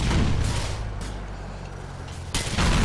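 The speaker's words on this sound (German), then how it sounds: "Ich baller euch alle weg." Gunfire in the video game GTA 4: The Ballad of Gay Tony, a dense run of loud booming shots with short gaps between them over a heavy low rumble of game noise.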